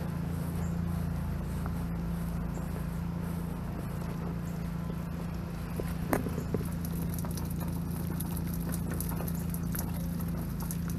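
Water runs from a drainage outfall beside a flooded driveway, a faint, steady trickling patter that continues unbroken throughout with no talk.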